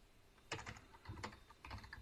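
Keystrokes on a computer keyboard as a command is entered on a Windows system, sounding as three short bursts of quick, close clacking taps separated by brief pauses, with no voices.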